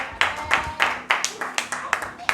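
Congregation at an Easter service clapping in a loose rhythm, sharp claps repeating about every third of a second, with voices calling out over them.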